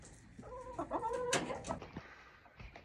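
A hen clucks close by in a run of short, throaty calls with a sharper squawk in the middle, then trails off into quieter rustling.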